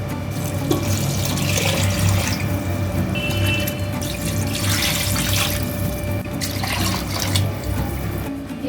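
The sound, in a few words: water being poured into a pressure cooker for chicken biryani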